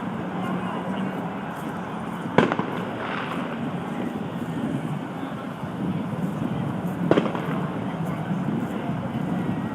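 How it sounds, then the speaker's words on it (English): Fireworks go off inside a football stadium before the Super Bowl in Tampa, two sharp distant bangs standing out over a steady windy wash of crowd and background noise. "they just set some fireworks off in the stadium"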